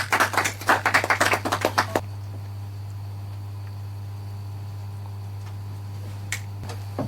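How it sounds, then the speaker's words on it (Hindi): An audience at a junior quiz show claps briefly and loudly for about two seconds, then the sound drops away to a steady low hum with faint room noise. "एक बार जोरदार ताली हो जाए इनके लिए।"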